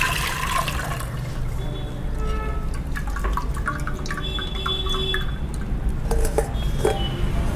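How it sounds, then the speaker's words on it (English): Soaked tamarind stock with rock salt is drained into a pot, giving a steady trickling, dripping pour of liquid with occasional light clinks of a metal vessel, fairly quiet and close. "I'm going to drain out the stock into that"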